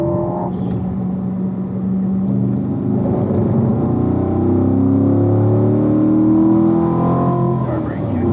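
A car driven at full throttle on a racing school track, its engine roaring loud and close with the pitch climbing steadily as it accelerates, with a voice faintly over the engine.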